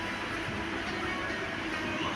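Inside the last express train to the airport in Malaysia, a steady low rumble of the carriage rolling along the rails, constant and close, with no voices.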